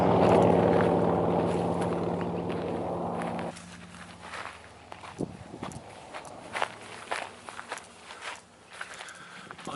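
Footsteps on a trail heading into a tunnel beneath a road, starting with a steady loud rushing noise, then separate close crunching steps in an uneven rhythm with no talk.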